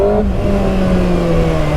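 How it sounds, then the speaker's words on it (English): A 2025 Kawasaki ZX6R sport bike engine revs hard as the throttle opens, a loud, close, steady rasping drone with rising pitch, accompanied by wind noise. "you can really hear that bark on the engine when you open it up"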